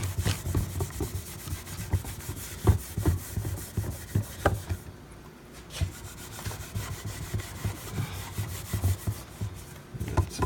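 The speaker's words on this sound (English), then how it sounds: "start wiping the stain off with a dry rag" A dry rag rubs wood stain off a board in repeated strokes, each swipe a soft, scratchy rasp close by, with a brief pause midway before the steady wiping resumes.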